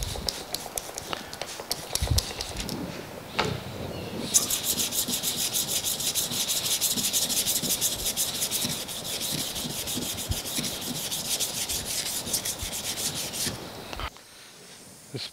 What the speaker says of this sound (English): So let me get out the scrub brush and we'll scrub it up.